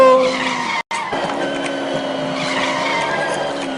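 Car tires skid and squeal through a turn, a sustained loud screech with a steady tonal whine that briefly cuts out, then resumes and holds to the end.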